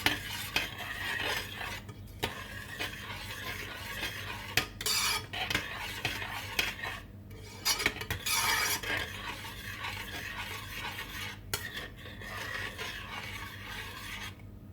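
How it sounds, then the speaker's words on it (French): A spoon stirring tomato sauce with herbes de Provence in a pan, a soft rasping scrape repeated in slow strokes, close and quiet, with a faint gentle sizzle beneath and brief pauses. "Et je mélange."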